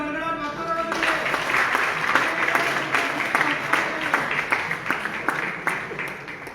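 An audience applauding at a COVID warrior award ceremony, a sustained wash of clapping from a seated crowd that fills the room and continues steadily, with a voice audible at the start.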